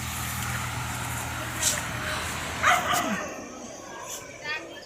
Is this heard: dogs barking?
yes